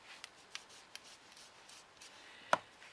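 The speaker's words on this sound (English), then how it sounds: "I just want to rub it a little bit with some gold." Gold ink rubbed by hand onto a black-painted textured trinket box: faint, soft scratchy rubbing strokes in a loose rhythm, with one sharper tap near the end, close up in a quiet room.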